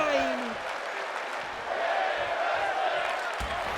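A video game wrestling arena crowd roars and chants continuously throughout, loud and dense, with brief thuds from the ring underneath and no clear talk.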